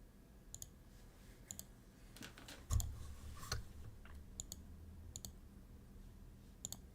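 Mouse clicks tick out sharply and irregularly over about seven seconds, some in quick doubles, over a quiet hum with a couple of louder thumps midway and no talking.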